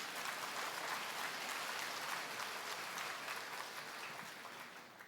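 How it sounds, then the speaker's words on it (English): Steady, dense applause from a large audience at a government plenary session in China, sustained throughout and gradually tapering toward the end, with no talking. "the warm round of applause just now"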